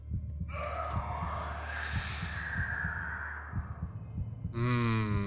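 A rhythmic low heartbeat thumps steadily through a Minecraft game scene, layered under a rising droning tone and a harsh cawing, moaning cry, before a bright chime-like game sound enters near the end.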